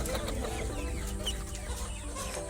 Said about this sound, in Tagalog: Pakakawalan na ni Daddy ang aking mga chicken.